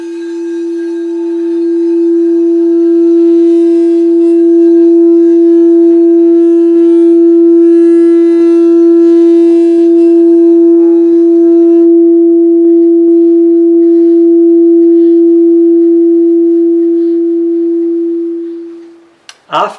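A crystal singing bowl rubbed with a white suede stick rings out as one loud, steady, pure tone that holds for nearly twenty seconds, a faint scratchy hiss riding on it early before it thins away, then a brief knock at the end.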